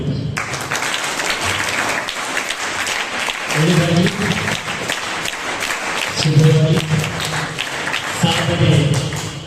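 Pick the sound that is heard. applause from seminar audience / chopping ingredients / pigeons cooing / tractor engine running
applause from seminar audience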